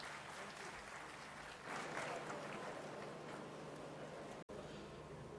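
An audience applauds at the Blue World Trade Centre launch, a dense continuous wash of clapping that swells midway, then cuts out briefly before resuming.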